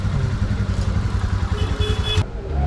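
A Royal Enfield Himalayan motorcycle engine rumbles steadily and close by as the bike is brought in at a Bengaluru service centre. The low throbbing continues without a break.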